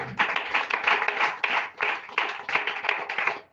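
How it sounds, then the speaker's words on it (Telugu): A church congregation claps hands together in quick, rhythmic bursts of sharp, overlapping claps, with brief gaps between the rounds of clapping, loud and close. "చప్పుడు కొట్టండి."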